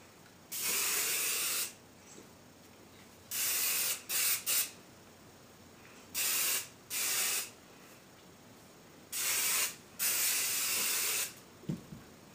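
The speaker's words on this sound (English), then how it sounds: "just a light spray of hairspray to set everything" Hairspray misted onto curled hair in a series of short, close hissing bursts, about six sprays of a second or so each, separated by brief quiet gaps.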